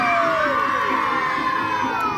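Crowd of onlookers around a lake cheering, a loud sustained roar of many voices with high shouts and rising and falling calls, heard close and continuous for the whole moment.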